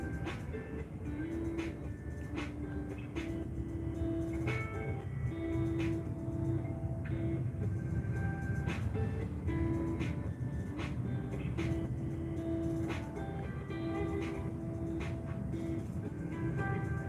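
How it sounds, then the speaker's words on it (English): A train passes somewhere behind a house at night, a low steady rumble with repeated clanks and a faint tonal hum, distant and muffled beneath scattered outdoor background noise. "you can hear the train behind me"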